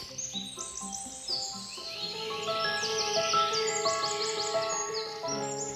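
Birds call and sing in a cold-morning natural setting, a dense chorus of varied chirps, trills and whistles overlapping continuously at moderate loudness, with no talking.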